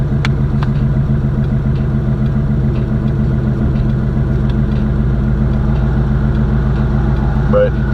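A Box Chevy's engine idles loud and close, a deep steady rumble with a slight lope. Someone talks over it.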